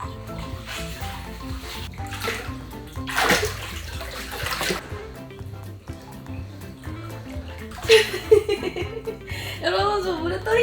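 Water sloshes and splashes in a cypress wood bath at a glamping site in Pyeongchang as someone floats, with bursts of splashing under excited talk and laughter.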